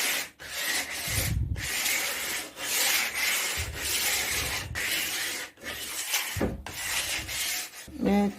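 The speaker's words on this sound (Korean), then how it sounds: "전체적으로 살짝 사포 작업 해주시면 됩니다" Sandpaper rasps along the grain of wood in steady, rhythmic strokes, roughly one per second, close up and with no talking.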